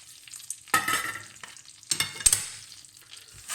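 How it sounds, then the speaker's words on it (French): Sugar stirred into melted butter in a pan while making caramel for a tarte tatin, giving soft scraping strokes and a light sizzle in a few close bursts, with no voices. "Mon beurre est fondu. J'ajoute le sucre."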